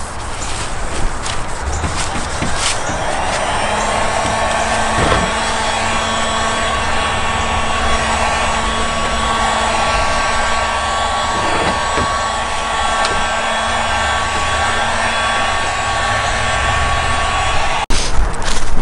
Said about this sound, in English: the heat gun's really helping out too, just because it's so cold, helping it dry the bumper off